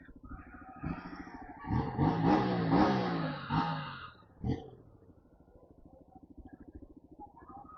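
A KTM RC 200 motorcycle accelerates on a ride, its engine revving up through rising, buzzy pitches before easing back to a steady, quieter drone.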